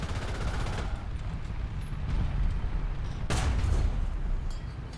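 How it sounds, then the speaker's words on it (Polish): Tank cannon fire in the War Thunder video game, a dense rumbling battle soundscape with a sharp shot near the middle over continuous low booms and gunfire. "Strzał na wydrę, oczywiście nieudany, jeszcze raz"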